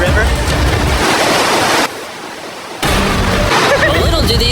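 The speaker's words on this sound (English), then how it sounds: "this river actually runs throughout the entire cave" River water rushing through a cave, a loud, steady broadband roar like surf that briefly drops away for about a second mid-clip before surging back, with a faint voice audible beneath it.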